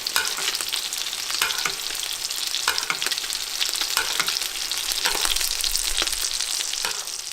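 Fish fillets pan-searing in butter crackle and spit loudly and continuously up close, with scattered stirring clicks and no voices.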